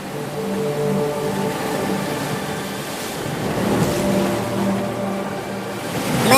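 A boat churns through sea waves as it turns, a loud continuous rush of water and wind with a low engine drone and no talking.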